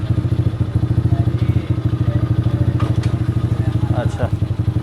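A 125cc quad bike engine runs with a steady, loud, close rhythmic chug as the bike pulls away, with a little mechanical clatter on top.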